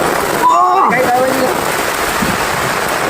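Steady rain falls on a trip around Munroe Island, giving a constant close wash of noise throughout, with a brief tonal call sounding over it early on.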